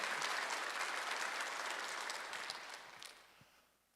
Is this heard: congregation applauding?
yes